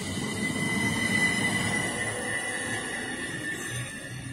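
Train passing at Southwick station, a steady rumbling rush of wheels and carriages with a thin high squeal running throughout, fairly close and continuous.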